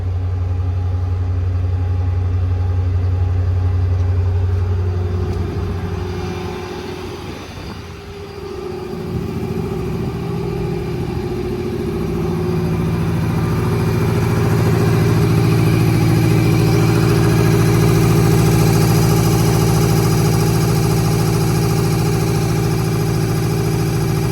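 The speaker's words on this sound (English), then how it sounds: "You just toggle that switch up for air on, and the compressor will start right up." An air compressor on a 2020 Ford F550 diesel crane truck with an IMT 7500-22 series crane starts up and runs, a loud, steady mechanical drone with a brief dip before settling into continuous running, no talk.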